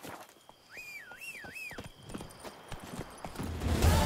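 In The Witcher 3, the horse Roach moves with repeated hoof clip-clops, and a whistle-like wavering tone rises over them as the hoofbeats grow busier and louder toward the end.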